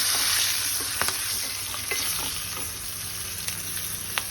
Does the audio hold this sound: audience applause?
no